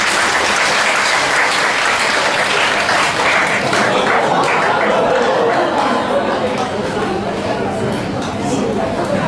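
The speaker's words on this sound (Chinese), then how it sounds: "掌声有请" A theater audience at a crosstalk comedy show bursts into loud, sustained applause to welcome two performers onto the stage. The dense clapping runs steadily throughout, with faint murmuring from the crowd beneath it.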